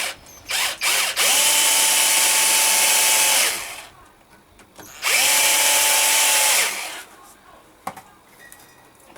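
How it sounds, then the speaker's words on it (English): A cordless drill with a 6mm bit bores through steel in two loud bursts of a few seconds each, spinning up and winding down, with quiet gaps and small clanks between. "so we're quickly going to drill these two holes"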